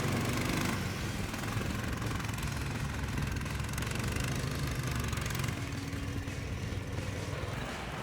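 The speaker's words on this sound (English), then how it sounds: "This sled is called Fisherman Cyclone. It has double track and a skid steering with 15 HP engine." A homemade Fisherman Cyclone double-track snow sled with skid steering and a 15 HP engine runs steadily at a low, throbbing idle, a continuous mid-level engine drone with no talk.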